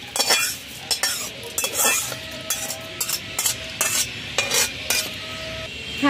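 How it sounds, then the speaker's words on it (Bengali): A spoon stirs dahi kadhi in a pot after fried curry leaves and their oil are added, giving repeated loud scraping and clinking strokes over a faint sizzle, close and without talk. "ভালো করে মিশিয়ে নেব।"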